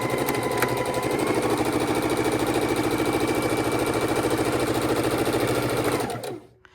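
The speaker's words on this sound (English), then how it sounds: "picking them up one at a time, matching them to the one prior, and chain stitching" Sewing machine chain stitching scrappy quilt pieces, a steady close mechanical whir with rapid needle pulses running continuously before slowing and stopping near the end.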